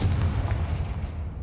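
A Confringo fire spell from the Hogwarts Legacy video game goes off as a sustained, loud booming blast with a deep rumbling low end, filling the moment without any talk.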